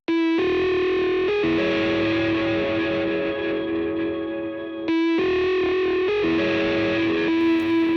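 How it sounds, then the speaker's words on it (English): Heavily distorted, gritty synth music in a song being written, loud sustained chords with a buzzing, processed edge and a brief cut before the phrase repeats. "it has distortion on, and it's making it sound very gritty"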